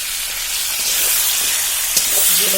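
Onion, bay leaves, green chilies and dried red chilies hiss and sizzle steadily in hot oil in a karahi, a loud, continuous close frying sound with no talk.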